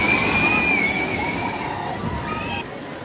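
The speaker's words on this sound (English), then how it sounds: "across from Belle is the mine train ride, and you can see it coming right this way" Mine train roller coaster at Fantasyland rolling past with a loud rumbling rush and high squealing wheel tones, fading toward the end.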